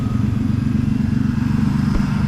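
A Kawasaki Mule utility vehicle's small engine idles steadily nearby after a few minutes of running, a low, even, slightly rough chugging rumble with a faint rattle, running alone without pause.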